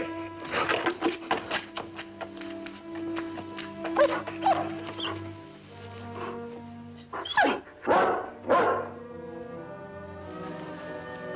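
A big dog barks in a 1960 western television show, giving a run of close, fairly loud barks and yips, a pause with whimpering, then a few heavier barks toward the end.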